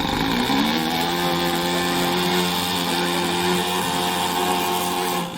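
An OS 26 four-stroke glow engine on a Clancy Mini Bee model plane at an RC club field, revving at full throttle with a steady, buzzing, harmonic-rich drone that holds constant and then drops off at the end.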